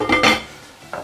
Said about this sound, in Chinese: 盖上盖子